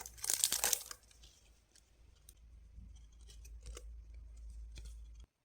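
Plastic wrapping being torn and crinkled open around K-pop album photocards, a loud crisp rustle at first, then quieter intermittent crackles and handling noises close by.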